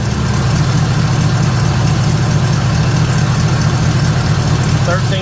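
A car engine idles steadily, now running with a working charging system for the first time, a loud constant low rumble with a faint knock throughout.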